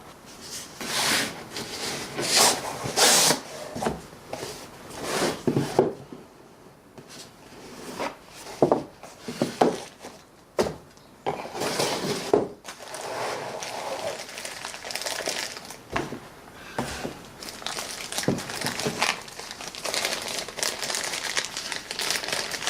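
Two brass model locomotives, a Gem-made 0-4-0 and 0-6-0 from Japan, are unwrapped from foam and plastic packaging, giving close, irregular crinkling and rustling with occasional soft bumps and handling noises.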